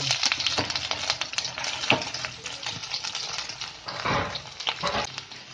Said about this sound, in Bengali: এইবার ওই তেলেতেই আমি একটু রসুন দেব।